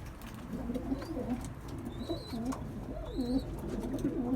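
Pigeons in a loft at night during evening feeding, with newborn squabs present, coo in low repeated rolling calls, soft and close over a quiet background hum.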